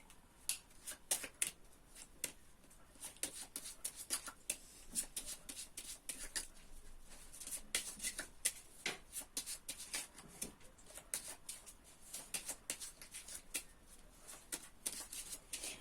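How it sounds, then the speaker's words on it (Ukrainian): Quiet, rapid riffling of a deck of tarot cards being shuffled, in repeated bursts of crisp flutters close by, with no talking. "Беру ці карти, мішаю."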